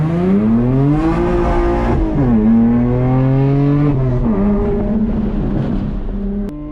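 A BMW 128i track car laps a race circuit, its engine loud and close, revving hard and climbing steadily in pitch, dropping briefly at each upshift and when easing off for corners, with no talking.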